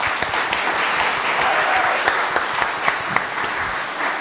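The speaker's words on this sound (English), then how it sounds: "Should we give them a round of applause?" A church congregation gives a round of applause during a Sunday service, close, loud and steady clapping from many people with distinct sharp claps scattered through the continuous patter.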